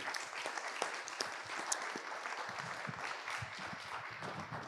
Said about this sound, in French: je vous demande de les applaudir après les avoir cités